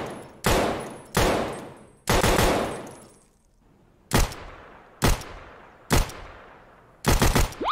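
KRISS Vector gunfire in the video game Escape from Tarkov comes as loud, close bursts and single cracks. Each is followed by a decaying echo, with a rapid double burst near the end.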